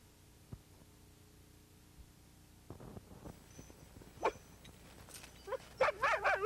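Dogs bark at a kennel training camp in snowy Minnesota, starting faint and sparse, then growing into a rapid cluster of sharp yaps and barks from several animals, with no talking.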